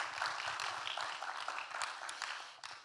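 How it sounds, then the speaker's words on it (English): Seminar audience applauding a speaker, a steady crowd of mixed, overlapping claps that carries on throughout at moderate level with no talking over it. "Should we give him a clap?"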